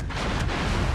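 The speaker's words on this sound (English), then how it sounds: "Rounds out from that middle turret." Heavy boom of high-caliber rounds fired from a ship's middle turret, a single loud, broad blast with a rumbling tail that fills the short moment.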